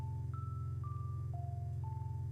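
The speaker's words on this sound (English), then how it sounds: "I forgot I changed my ringtone on my phone to Klonoa sound effects." A phone ringtone made of Klonoa video game sound effects plays faintly: four sustained electronic beep tones stepping in pitch, one after another, over a loud low steady hum.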